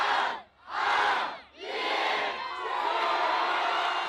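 A huge New Year crowd on the Champs-Élysées in Paris roars and cheers at fireworks, with loud swelling waves of massed voices that dip briefly, then hold a sustained roar.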